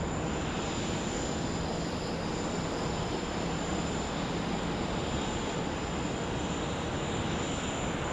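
A China Southern Airbus A330 airliner departs Sydney Airport, its engines a steady, broad roar of noise that holds evenly throughout without a break, with no talking in the clip.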